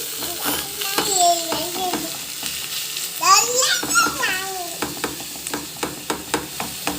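Methi leaves and garlic frying in oil, with a soft sizzle and stirring scrapes under a voice speaking throughout, plus some child chatter.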